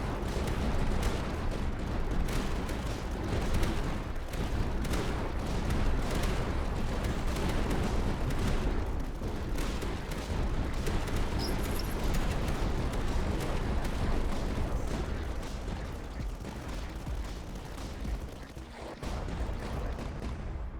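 Reaper cannons fire in a video game, a dense barrage of booming, rapid shots and blasts layered over one another, continuing loudly without any speech.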